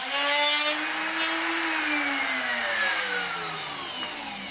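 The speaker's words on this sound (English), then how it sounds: "Auger style or wood owl bits come in handy when drilling these deeper mortises." A steady, grinding whir of an auger bit boring into wood for a deep mortise, pitch slowly sliding as the bit bites deeper, continuous and close.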